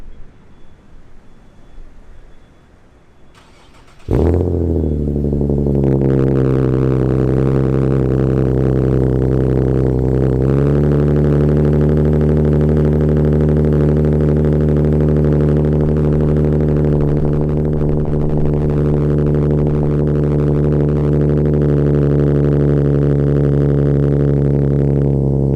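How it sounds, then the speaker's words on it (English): An Infiniti G37 fitted with a Fast Intentions catback exhaust fires up from cold after a few seconds of quiet. A sharp, loud start flares into a deep, droning high idle that stays loud and steady. "now you're going to hear the exhaust start up"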